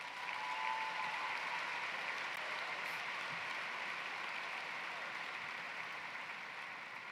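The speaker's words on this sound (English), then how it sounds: "That deserves a round of applause." A graduation ceremony crowd gives a round of applause at a high school, steady, even clapping held at a moderate distance for several seconds, with no talk over it.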